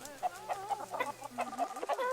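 Chickens in the zoo-building game Planet Zoo cluck in quick, repeated bursts, several birds overlapping at close range with no voices over them.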